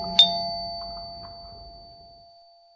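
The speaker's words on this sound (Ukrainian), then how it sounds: "Двічі в двері дзвонить." A doorbell chime rings once near the start, its tone lingering and slowly fading into quiet, with a couple of faint soft knocks after.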